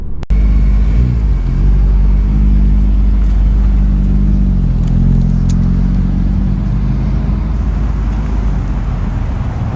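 Honda Civic Type R FL5 with a Hondata tune, its engine running loud and steady at close range, the pitch shifting slightly as the revs rise and settle, no talk.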